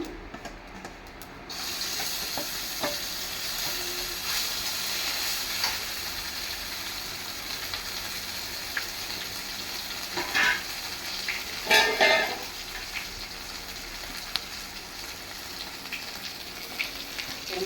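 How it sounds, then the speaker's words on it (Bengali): A filling fries in hot oil tempered with nigella seeds, giving a steady soft sizzle with occasional stirring clatters. The sound is moderate and close, with no talk. "তেল গরম হয়ে গেছে, আমি একটু কালো জিরা ফোড়ন দিচ্ছি পুরটায়। এবার আমি পুরটা দিয়ে দেবো।"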